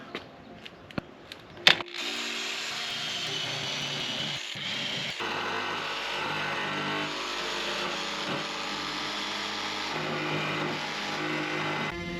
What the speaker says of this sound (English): First we'll drill a pilot hole so I can fit a jigsaw in here.